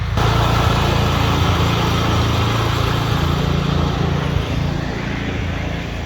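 A small garden tractor engine bought at an estate sale runs loud and close, a steady buzzing drone that eases slightly in level as it drives past, with no talking.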